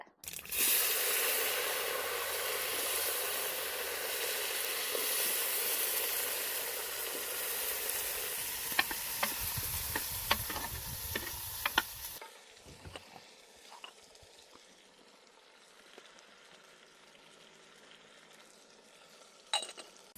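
Loud, steady sizzling of spices tempering in hot oil for a South Indian kuzhambu curry with eggplant, with a few stirring clinks, then the sizzle drops to a quieter crackle partway through.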